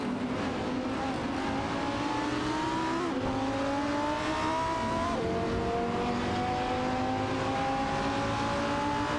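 Race cars in a racing video game drone steadily with engines rising in pitch through repeated upshifts, several cars overlapping in a loud continuous roar without talk.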